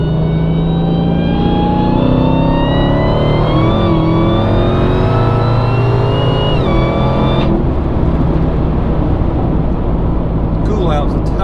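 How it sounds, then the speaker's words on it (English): A Dodge Hellcat's engine revs hard and climbs steadily while its tires spin, loud and close. The engine note cuts off abruptly near the end, and someone speaks over it. "the tires are spinning"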